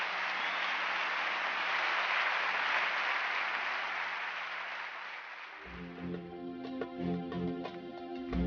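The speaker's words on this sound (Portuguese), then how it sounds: "Pode aplaudir aí os irmãos que quiseram aí." A church congregation applauds in a sustained, dense wash of clapping that fades after about five seconds as music with a steady beat comes in and takes over.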